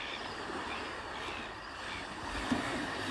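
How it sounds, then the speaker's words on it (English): Small ocean waves wash onto the shore at night, a soft, steady surf hiss with no clear breaks, faint and distant, with light wind noise and no talking. "You can sort of just hear a little bit of the waves crashing, not much of a swell."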